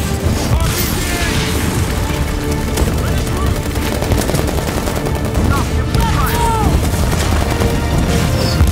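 Sustained bursts of automatic gunfire and booming explosions fill the Medal of Honor Warfighter game battle, dense and loud throughout with faint voices under the shooting.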